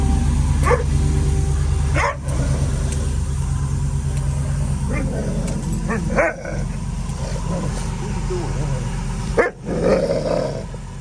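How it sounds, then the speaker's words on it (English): Several dogs bark and growl repeatedly at a junkyard, with loud nearby bursts over a rumbling background and occasional thumps. "What the hell these dogs are tripping on?"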